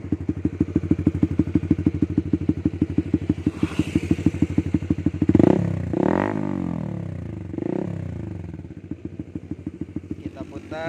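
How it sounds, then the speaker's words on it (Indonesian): Motorcycle fitted with an RCB three-sound aftermarket exhaust set to racing mode, idling with a loud, steady rapid putter broken by several sharp throttle blips and revs, close by. "kali ini gue bakal review knalpot RCB 3 suara"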